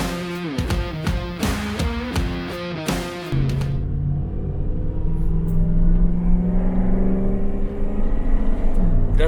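An LS-swapped Dodge truck engine fitted with angled-up Dodge exhaust, starting with a few sharp bursts, then settling into a steady, loud, rumbling idle close by.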